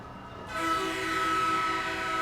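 A train in Transport Fever 2 sounds a long, loud steam-style whistle that starts abruptly and holds steadily, with rolling rail noise underneath.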